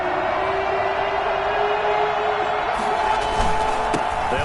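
A stadium crowd roars continuously in a Packers at Bears football video game, a dense, unbroken wall of cheering with faint commentary voices near the end.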